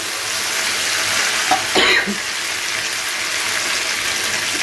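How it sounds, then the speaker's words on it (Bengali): Marinated spice paste fries in hot oil as it is stirred, a continuous close sizzle with a brief louder scrape partway through and no talk. "ম্যারিনেট করা মশলাটা তেলের মধ্যে দিয়ে কিছুক্ষণ নাড়াচাড়া করে মশলাটাকে একটু ভেজে নেব"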